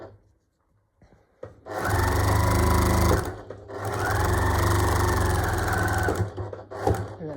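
A sewing machine runs in two long bursts of steady stitching on a drawstring gift bag, with a short pause between them and a brief final burst, loud and close.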